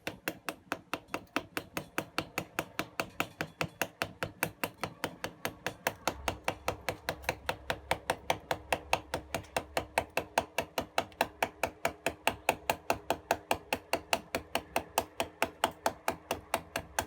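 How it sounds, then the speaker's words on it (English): A mallet taps a chisel steadily into wood while carving a wooden canoe bowl, giving light, evenly spaced knocks at a brisk, regular pace, close up and continuous. "The mallet's doing the work by taking the wood out. So it's just light little taps."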